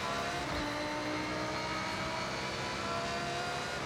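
Race car engine in the video game Forza Horizon during a tight, twisty circuit race, a steady, dense engine drone with a continuous whine and no clear gear changes, moderately loud throughout with no voices.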